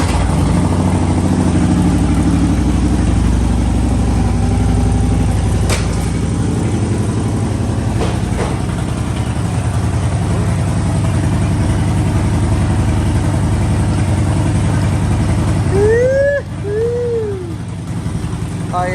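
A Harley-Davidson motorcycle idles close by with a steady, fairly reserved low rumble, fitted with aftermarket pipes, running continuously throughout with a brief dip and a few faint tonal chirps near the end.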